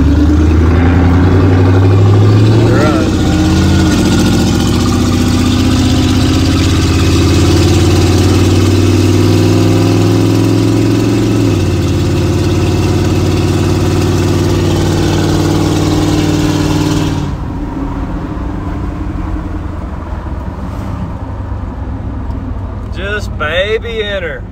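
An old truck engine idles loud and close with a deep, steady drone, then drops noticeably quieter for the last several seconds.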